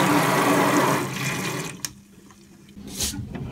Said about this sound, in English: electric signal comes to the water pump and it moves the water.